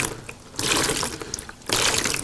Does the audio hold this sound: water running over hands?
yes